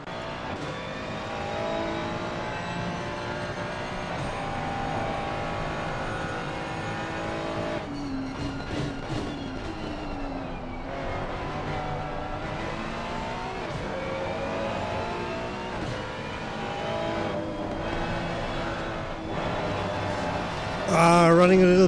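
A GT race car in Assetto Corsa Competizione at Kyalami drones steadily under load, with its engine pitch falling as it brakes and then rising again as it accelerates, ending in a louder rising rev.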